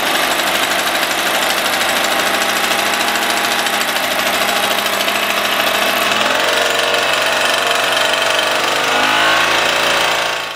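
An old barn-find Solex moped engine runs loud and close, with a dense, rattling, buzzing idle throughout and a slight change in pitch partway through.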